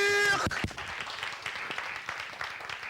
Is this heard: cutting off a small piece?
no